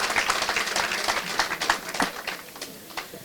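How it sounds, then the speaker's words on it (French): An audience at an awards ceremony for women of impact claps together in a dense, steady wash of applause that fades toward the end, with faint voices mixed in. "Est-ce que vous pouvez applaudir?"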